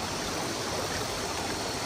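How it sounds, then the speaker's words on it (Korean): Stream water flowing steadily beside Geumsansa temple, a continuous broadband rush close to the listener with no voices, even and unbroken throughout. "물도 흐르고 물소리도 되게 좋고."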